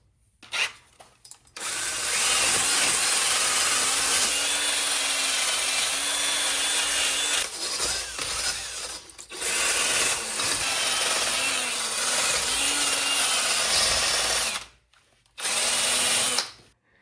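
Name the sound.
wire wheel cleaning surface rust off wheel hub face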